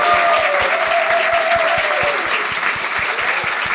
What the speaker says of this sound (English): make a large round of applause for a former F1 team principal, a star of Netflix